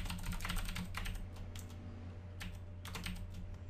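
Rapid bursts of keystrokes on a computer keyboard, close and crisp, in uneven clusters with short pauses, while writing Visual Basic code, with no voices.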